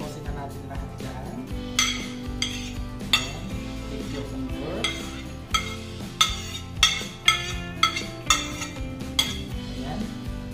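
Metal utensils clink repeatedly against a serving plate while a vegetable salad of apple and tomato gets tossed, with sharp, regular clinks growing louder toward the end, and a voice talking faintly underneath.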